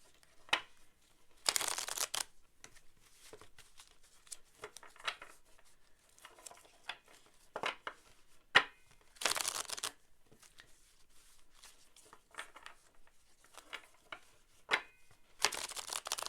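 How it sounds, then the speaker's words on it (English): Tarot cards are shuffled in short, close riffling bursts separated by quiet gaps and soft handling taps, with no voices. "Let me shuffle again."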